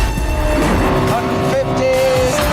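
A Lexus LFA supercar accelerates hard, its engine roaring loud and close with rising tones as it climbs through the gears, wind and road noise mixed in.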